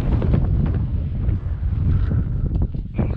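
Wind buffets the microphone outdoors in an open field during a metal-detecting search for an abandoned farmstead, a loud, continuous low rumbling roar with gusting swells and no speech.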